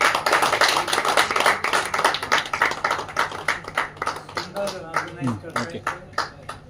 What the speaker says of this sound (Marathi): थोड्या टाळ्या वाजवायला हरकत नाही.